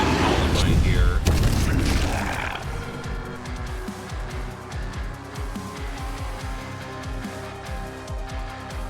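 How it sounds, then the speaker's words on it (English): A spell detonating a column in the video game The Last Spell, with a loud booming blast that trails into a rumbling, crackling decay and repeated low thuds. "I can still detonate that column right here"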